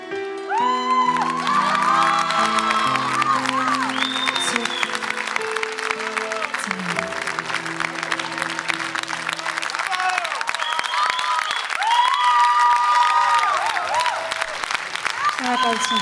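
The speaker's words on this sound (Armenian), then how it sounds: "եկեք ջերմ ծափարենք" Warm, sustained applause from a large audience at a televised gala singing show, steady and loud throughout, with cheering and a few whoops mixed in over music.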